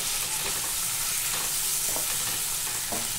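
Prawns and fish stir-fry in oil for a Bengali ol kochu stalk curry, a dense, close, continuous sizzle with faint scraping stirs and no voices.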